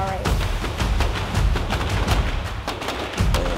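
Rapid bursts of gunfire from weapons on a Navy boot camp shooting range, multiple sharp reports in quick irregular succession, loud and fairly close.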